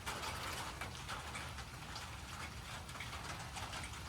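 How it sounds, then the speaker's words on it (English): Steady, dense patter of rain falling, a constant wash of hiss and drops with no pauses. "Here comes the rain."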